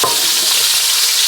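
Pork sausage frying in hot lard gives a loud, continuous hissing sizzle, dense and steady over a short moment with no voices.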